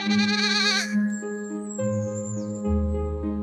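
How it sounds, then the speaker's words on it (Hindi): A goat calls out repeatedly for her kids in fields outside a village, giving a loud, wavering bleat at the start followed by sustained tonal calls, with no talking. "बकरी गांव के बाहर खेतों में अपने बच्चों को आवाजें देने लगी।"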